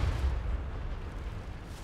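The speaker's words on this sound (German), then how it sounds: "Explosions." Tank battle explosions in World of Tanks, a deep rumbling boom that trails off into a low roar over a couple of seconds, heard alone without talk.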